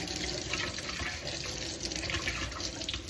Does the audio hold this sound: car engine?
no